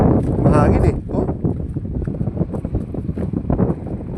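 Gusty wind buffets the microphone outdoors on a bridge while fishing, a loud steady rumble with broadband bursts, mixed with nearby voices talking.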